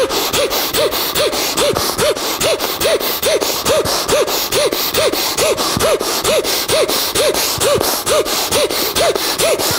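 Kapalabhati breathing during a dumbbell workout: a rapid, even train of about twenty sharp, forceful nasal exhales, close and loud, with no talking.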